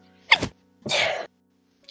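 A single human sneeze, sharp and close: a short intake burst followed by a louder explosive release, then silence against a faint background hum.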